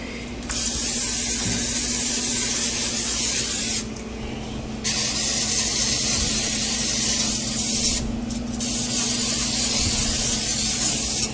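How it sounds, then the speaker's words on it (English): Cooking oil is sprayed onto a hot pan in three long, loud hissing bursts separated by brief pauses, close up. "And spray the oil again."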